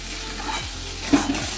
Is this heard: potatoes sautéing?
yes